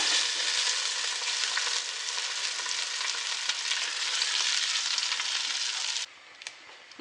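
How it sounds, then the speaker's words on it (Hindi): Loud, steady sizzling of hot oil tempering poured into kadhi, a continuous frying crackle that holds for several seconds before dropping suddenly to a faint simmer. "तड़का अब हमारा तैयार हो चुका है। मैं इसको कड़ी में डालती हूँ।"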